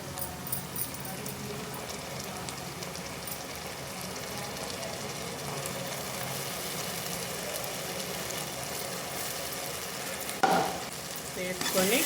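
A ladle stirs masala into goat tripe curry frying in a pan, with a steady sizzle under soft scraping strokes. A sharper clank of metal on the pan comes near the end.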